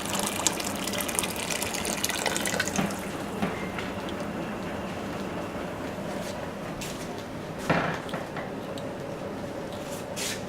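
Hot liquid poured slowly into a glass pickle jar, a continuous gushing, filling sound with a few brief clinks and splashes along the way.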